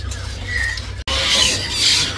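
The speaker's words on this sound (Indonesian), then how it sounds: "Ini ada burung hijau betina ya." Bright, high-pitched calls and chirps of a female leafbird, fairly close, repeating over a low background hum.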